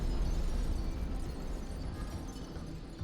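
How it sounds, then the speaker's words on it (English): A grenade explosion in the video game 1000xRESIST is a sustained, loud, rumbling blast that fills the whole moment and slowly trails off, with no speech over it. "Did Fixer have a fucking grenade on her?"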